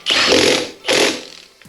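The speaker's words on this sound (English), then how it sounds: "I am just going to wind these in with my impact. This is just my little 3/8 impact" A small 3/8-inch impact wrench on a low setting spins lug nuts onto a 2006 Yamaha YFZ450 ATV wheel, two loud close buzzing bursts of about half a second each with a short pause between.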